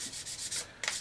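Sandpaper rubbing over a plastic model aircraft fuselage in short, even back-and-forth swipes, close and soft, with no talking.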